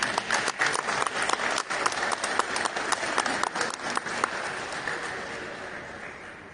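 Audience applause for a regional winner at a Peruvian traditional art and crafts ceremony, many hands clapping in a lively, steady stream that gradually softens as it winds down, with no talk over it.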